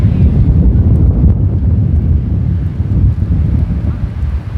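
Strong wind picking up outdoors, buffeting the microphone with a loud, continuous low rumble and gusty roar that barely lets up.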